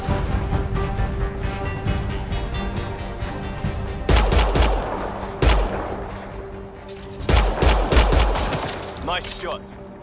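Gunfire crackles in the sci-fi shooter Mass Effect Andromeda, with sustained rapid weapon fire and several heavy booming blasts over a droning game background, loud and close, with voices in the mix.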